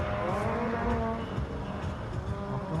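Race car engine roaring steadily under throttle during a regional auto race final, loud and close with a continuous rising drone of motors and no speech.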